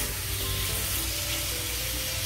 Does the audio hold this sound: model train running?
no